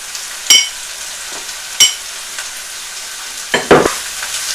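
Food fries in a pan until golden brown, a steady hiss of oil broken by four sharp stirring scrapes against the pan, loud and close, without talk.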